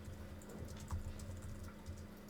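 Keys on a computer keyboard tapped lightly and fairly steadily during an Adobe Illustrator CS type lesson, the soft clicks faint against a constant low hum, with no talking.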